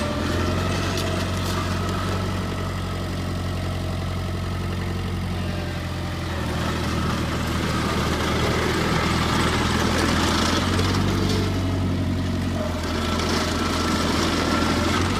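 Diesel engine of a Sumitomo HW30VW-3 road roller runs steadily close by, a continuous low rumble with a deep harmonic drone that shifts slightly in pitch midway and again near the end, with no voices.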